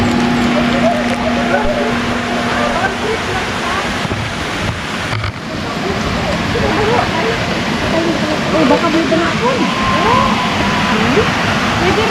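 A small river or stream flows steadily outdoors, a continuous broadband water rush with some wind buffeting, while people talk over it.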